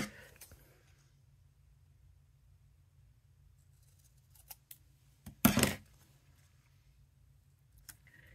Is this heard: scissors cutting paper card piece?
yes